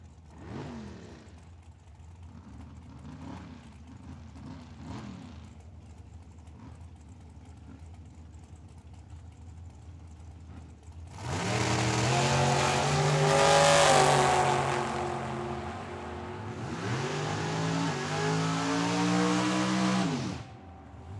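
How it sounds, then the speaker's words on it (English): A Mexican dragster and a Mustang street car launch side by side at a drag strip, a long roaring surge of engines that swells loud, holds for several seconds, then revs again as they pull away, after a quieter idling stretch. "we have the dragster out of Mexico, left-hand side. And we got the Mustang streetcar on the right-hand side"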